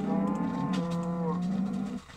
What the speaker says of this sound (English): Cows are adults now.